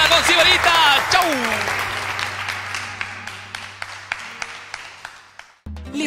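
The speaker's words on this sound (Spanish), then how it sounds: "el aplauso para Carlos Otero" Studio audience applause closing a Peruvian cooking show, loud clapping under a host's voice and music at first, then thinning into scattered claps and fading away before a brief new sound cuts in.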